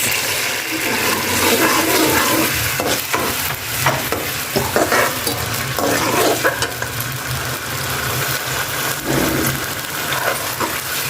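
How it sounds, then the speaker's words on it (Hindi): Onions hitting hot ghee in a pan, a loud sustained sizzle and crackle with intermittent stirring and scraping throughout, no voices. "अब हो गया हमारा घी गरम। अब हम इस पे डालेंगे प्याज।"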